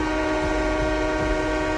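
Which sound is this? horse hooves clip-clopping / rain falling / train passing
train passing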